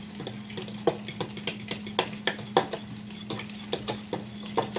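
A utensil stirs spaghetti sauce in a pot, giving a string of sharp clinks and scrapes against the metal at an uneven rhythm, with a low steady hum beneath and no talking.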